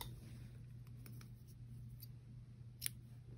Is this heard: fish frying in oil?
no